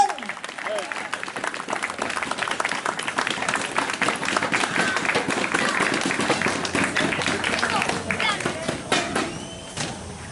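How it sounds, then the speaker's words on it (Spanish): A church congregation applauds together in sustained, dense clapping that swells and then thins out, with voices mixed in. "denle palmas al que está en los cielos"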